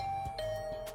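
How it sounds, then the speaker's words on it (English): Doorbell chiming in the visual novel The Hundred Line: Last Defense Academy, a clear sustained electronic ding-dong tone ringing alone for about a second. "Not even 10 minutes had passed before I heard my doorbell ring."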